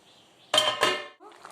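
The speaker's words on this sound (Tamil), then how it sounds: "இப்போ நான் மூடி போட்டுடுறேன்" Two quick metallic clanks of a lid set onto a cooking pot of drumstick curry, loud and close, followed by quieter kitchen rustling.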